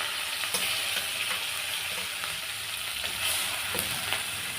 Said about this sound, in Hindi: मिर्ची डालूंगी, क्योंकि ऑयल ज़्यादा गर्म हो गया है ना, इसलिए हम मिर्ची डाल देंगे,